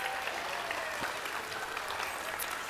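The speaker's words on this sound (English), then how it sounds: "let's give them a round of applause" An audience at a nurse pinning ceremony applauds in a dense, even wash of clapping, steady and fairly distant throughout, with no speech over it.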